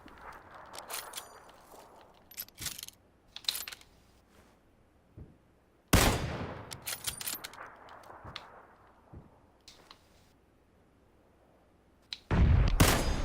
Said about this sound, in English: I'm taking shots, man